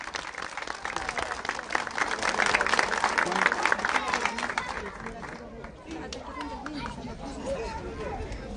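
An outdoor crowd at a children's playground inauguration in Catamayo breaks into loud clapping that swells and then thins, with chatter and voices mixed throughout.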